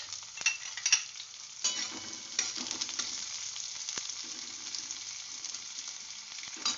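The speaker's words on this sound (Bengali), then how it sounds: "দেখো তেল গরম হয়ে গেছে। এবার প্রথম দিয়ে দিলাম একটু আমি কালো জিরে, এরপর দিয়ে দিলাম এই কুচনো পেঁয়াজ।" Chopped onion and nigella seeds frying in hot oil, a close, continuous crackling sizzle with intermittent stirring scrapes and small spits, no talking.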